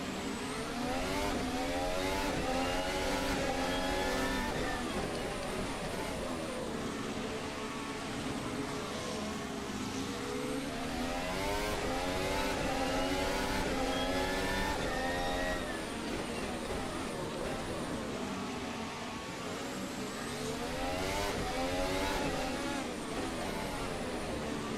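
Racing engine from an F1 video game, revving and easing through corners with rising and falling throttle sweeps, loud and continuous, with a voice talking over it.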